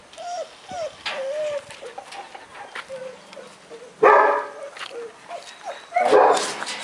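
German Shepherd dogs bark and yelp repeatedly, with a couple of louder bursts, while birds call and chirp throughout in the background.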